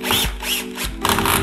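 A screw is driven in with a power drill while a Lorenzo sideboard is being assembled. Two close whirring bursts with a short pause between them are loud and steady, with no talk.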